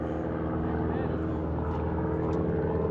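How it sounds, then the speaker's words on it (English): Propeller airplane flying over Falcon Field Airport in Arizona, a steady, loud engine drone that holds evenly throughout as people talk nearby. "there's some airplanes actually flying in the air right now"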